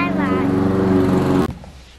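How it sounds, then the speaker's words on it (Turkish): A lawn mower in a park droning steadily with a fairly loud, even engine hum that cuts off abruptly near the end, leaving quiet background; people talk close by over the engine. "Çim biçme makinesi gidiyor"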